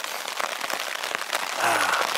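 A passing rain squall patters onto a tarp in a forest grove near Jackson Hole, with scattered close drops tapping irregularly and a brief louder burst near the end.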